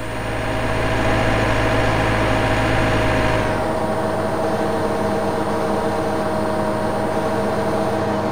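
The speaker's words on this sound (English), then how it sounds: "Turn the mower on." A mower engine in Farming Simulator 17 runs with a steady, loud drone, its deep low rumble dropping away partway through while a constant mechanical hum carries on to the end.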